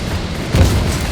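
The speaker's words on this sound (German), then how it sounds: "Oh, Raketenfeuer!" Rocket artillery fire in the video game War Front: Turning Point erupts as a loud, deep boom midway, rumbling briefly over a low background.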